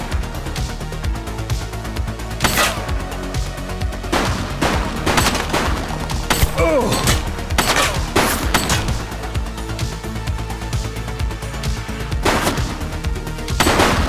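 Dense gunfire rattles through a police shootout in the video game The Precinct, with rapid shots and loud bursts overlapping nonstop beneath the steady game soundscape.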